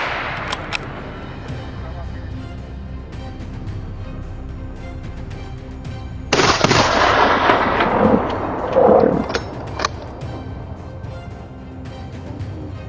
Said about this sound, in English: Gunshots echo non-stop, scattering the herd in panic.